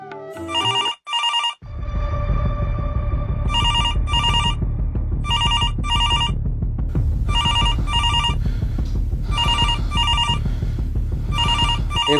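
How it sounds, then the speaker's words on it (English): Telephone ringing at home during the Dashain festival: repeated bursts of electronic ringtone chimes in regular groups over a steady background hum, loud and close, with no talking. "phone utha da."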